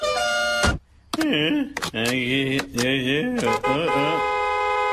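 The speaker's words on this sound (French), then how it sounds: "Mais à la place, j'ai acheté un nouveau klaxon." A new melodic car horn in the video game GTA 5 Online sounds in several loud, close honks with shifting pitch, following a brief voice at the start.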